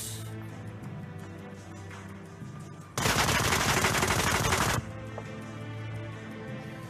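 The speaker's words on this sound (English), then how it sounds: "You loaded a whole mag into his body, Brian." Sustained burst of automatic gunfire in the Onward VR military shooter game, a loud continuous volley lasting about two seconds over a quieter game background.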